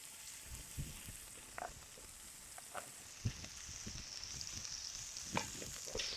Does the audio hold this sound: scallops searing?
yes